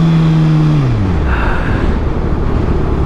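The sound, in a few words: 2019 Kawasaki ZX6R motorcycle engine while riding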